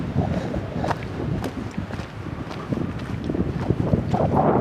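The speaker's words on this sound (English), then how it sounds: "We're heading north into a windstorm. Holy smokes, it's blowing." Strong wind roars steadily and loudly across the microphone on a mountain trail heading toward Sheep Lake and Sourdough Gap, a dense low rumble that swells in gusts, with no voices.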